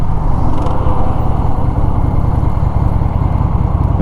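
A Honda Shadow motorcycle engine idles close by, a loud, steady low rumble with an even pulsing throb and no other sounds.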